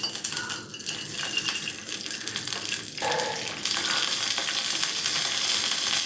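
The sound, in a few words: mustard seeds sizzling in hot oil for tempering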